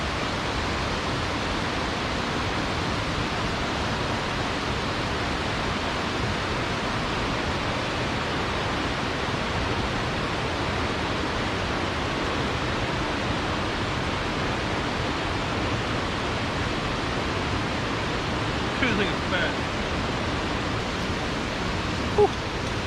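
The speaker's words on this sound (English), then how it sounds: "Well, the waterfall's back there." Steady broadband rush of a waterfall behind a fishing spot where largemouth bass are caught, loud and constant throughout, with a brief spoken remark near the start and a small splash-like tick late on.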